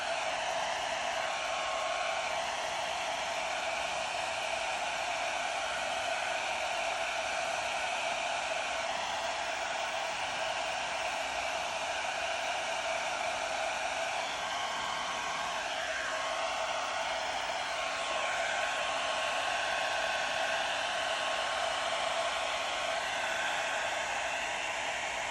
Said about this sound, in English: I'm gonna go on with my dryer and just kind of make my curls fluffy and dry them out